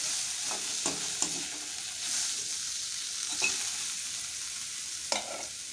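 Chickpeas and leeks fry in oil in a pan, Sri Lankan style, with a constant sizzle. A spoon scrapes and stirs through them in a few separate strokes. No one speaks.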